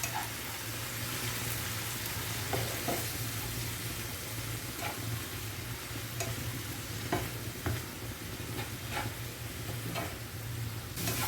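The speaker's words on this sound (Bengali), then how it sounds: "এবার মশলাটাকে একটু কষিয়ে নেবো" Spice masala loosened with a splash of water fries and is stirred in a pan for a lote fish curry: a constant sizzle marked by regular scraping taps of the spoon, with no voices.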